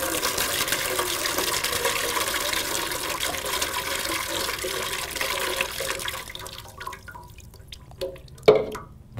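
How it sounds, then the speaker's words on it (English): Liquid is poured into a glass in a continuous rushing stream for several seconds, then cuts off, leaving a few sharp trailing drips and splashes. "Imagine if the amount of stress is so much that it is like pouring all of this liquid into the glass."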